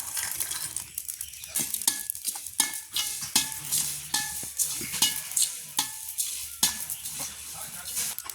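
Chili dry roasted in a pan with cumin and turmeric, close scraping stirs and clinks of a utensil against the pan over a light continuous sizzle, in an irregular rhythm.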